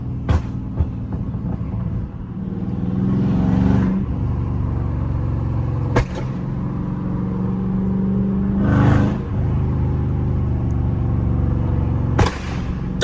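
A tuned Dodge Charger Scat Pack revs and pulls through traffic, its exhaust surging loudly in repeated waves, with sharp pops and cracks near the end of each pull, heard from inside the car.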